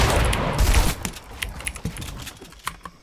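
Rapid bursts of gunfire in Fortnite Battle Royale, a loud dense volley at first that thins into scattered sharp shots and short rattles.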